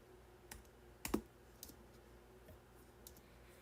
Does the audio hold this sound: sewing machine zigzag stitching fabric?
no